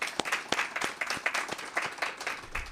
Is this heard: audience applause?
yes